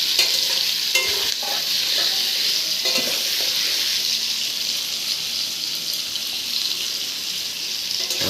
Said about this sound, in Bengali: ভালো করে নাড়াচাড়া করে দিন।